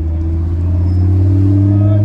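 A modified Audi RS3 five-cylinder engine idles and revs up close, a loud, deep rumble with strong low harmonics that rises slightly in pitch over a couple of seconds.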